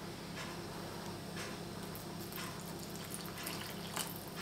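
Water is poured into pizza dough in a mixing bowl, making a soft, continuous trickle with faint splashy pulses at a moderate level; no voices are heard.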